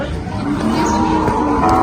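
Water buffalo, Vietnamese stock, low, drawn-out mooing and lowing at a busy Thai livestock market, heard close and loud over a steady crowd din.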